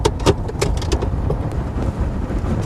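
A car passing along a city street at night, a steady broadband road rumble with a few brief knocks and clatters, fairly close and continuous throughout.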